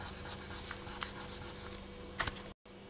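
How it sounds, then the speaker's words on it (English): Fingers rubbing polymer clay smooth for lollipop earrings, a soft close repeated brushing friction in short strokes, quiet and steady, ending with a brief cut to silence. "you can use your fingers or you can use your roller to rub"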